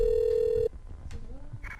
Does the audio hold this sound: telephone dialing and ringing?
yes